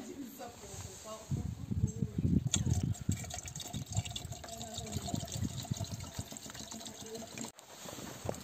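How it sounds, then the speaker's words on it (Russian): Water being poured into a 2006 Kia Cerato's windshield washer reservoir, a gurgling, splashing flow that runs for several seconds with some clinking and shuffling around it. "Сейчас сперва дольем воду"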